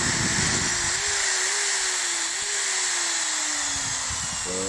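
A hammer drill, running again after a trigger switch replacement, gives a loud, continuous high whine close by, its pitch wavering slightly as it spins steadily throughout.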